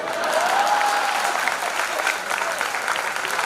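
An audience claps at a Hindi comedy poetry gathering, a brief, full round of applause that stays fairly even and close for a few seconds, with faint voices underneath.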